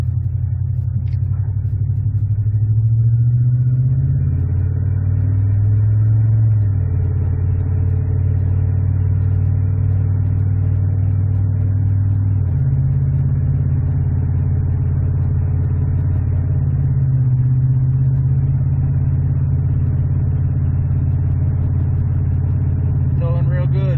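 A 1998 Dodge Durango engine drones steadily at low revs while towing, shifting pitch a few times as it works under load, loud and close throughout.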